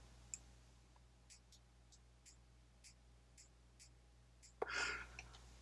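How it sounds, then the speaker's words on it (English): Magnetic switch inside a Mark 9 tricorder prototype clicking on and off as a magnet passes, a series of faint, sharp ticks close up, ending in a louder clack and rustle, with no talking. "That clicking is the magnet turning on and off the switch."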